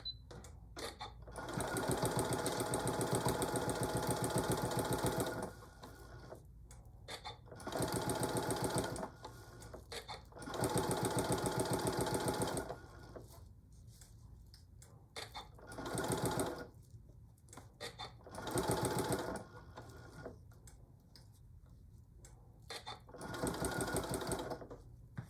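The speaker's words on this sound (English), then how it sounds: "Let's do our back stitching." Sewing machine back stitching a fabric potholder with a pocket, running in several short bursts of steady whirring with brief pauses between, close and clear with no talk.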